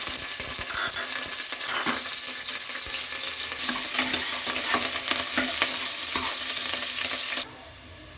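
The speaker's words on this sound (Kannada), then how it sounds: "ಎಲ್ಲ ಚೆನ್ನಾಗಿ ಈರುಳ್ಳಿ ಎಲ್ಲ ರೋಸ್ಟ್ ಆಗಿದೆ" Onions and curry leaves sizzle steadily in hot oil for mutton sambar, a close, continuous frying hiss with occasional stirring scrapes until it suddenly drops away near the end.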